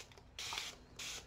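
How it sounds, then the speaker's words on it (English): Two short hissing sprays of ink from a spray bottle onto paper, close by, separated by a brief pause. "I'm going to spray the paper"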